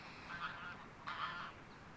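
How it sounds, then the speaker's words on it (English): Two faint, distant goose honks, spaced about a second apart, against a quiet outdoor background. "that is geese that you can hear in the background"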